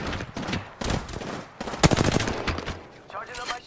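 Video game gunfire in a firefight, with repeated bursts of rapid automatic shots and sharp single cracks coming in clusters, loud and close, separated by short pauses.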